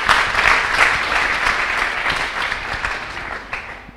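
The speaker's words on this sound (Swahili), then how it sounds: "Piga makofi mzuri na nduru kidogo na shangwe kidogo" A church congregation gives their Reverend sustained, energetic applause with cheering mixed in, a thick continuous wash of clapping that eases slightly toward the end.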